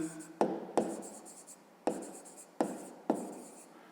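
Pen strokes scratch on paper in five short bursts, each starting with a crisp tap and fading into soft scraping, close and quiet with gaps between.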